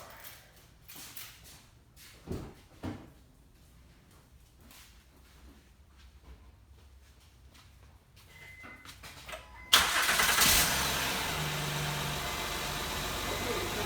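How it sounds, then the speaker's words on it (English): A 2011 Honda Pilot's engine cranks and catches after about ten seconds of quiet clicks and handling sounds, then settles into a loud, steady idle. "Okay, let's start the car."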